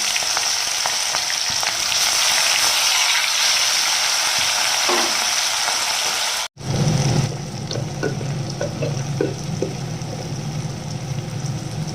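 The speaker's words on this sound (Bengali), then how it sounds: "এবার এই আলু ভাজার তেলেই দিয়ে দেবো পেঁয়াজ কুচি।" Oil already used to fry potatoes sizzles steadily in a pan, then chopped onions drop in with a brief break and the frying swells into a louder, fuller crackling hiss.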